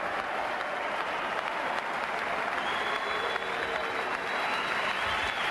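A ringside crowd at a heavyweight boxing title fight claps in a continuous, dense wash of applause that holds at an even level throughout.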